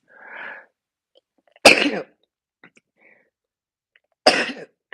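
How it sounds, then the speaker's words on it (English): Two sharp, loud sneezes a few seconds apart, preceded by a brief soft breathy sound, with quiet pauses between them. "I'm going to sneeze."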